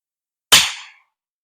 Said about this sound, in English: Up first will be the GAMO Sword Magnum with the Crossman